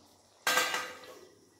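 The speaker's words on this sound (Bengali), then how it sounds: "আমি 2 মিনিটের জন্য একটা থালা ঢাকা দিয়ে দেবো।" A metal plate set down over a cooking pan of pointed gourd with poppy seed paste, one sharp clang at once then a ringing metallic decay, close and alone.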